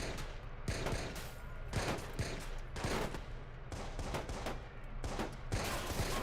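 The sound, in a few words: gunfire from shooting in a video game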